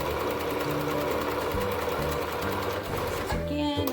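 A domestic sewing machine runs continuously while stitching fabric for hair bows, a steady close-up whirring hum with a brief reverse back-stitch shift near the end.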